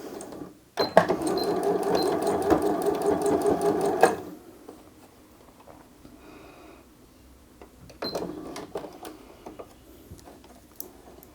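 A sewing machine stitches a short burst of rapid, even clicking, then pauses; a brief backstitch follows later at lower level, with quiet handling noises between.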